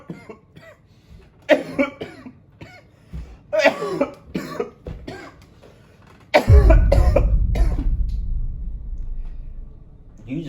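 A single loud cough bursts out near the microphone in a casual reaction commentary, with a rough low rumble trailing for several seconds; earlier, a person talks in short bursts before it.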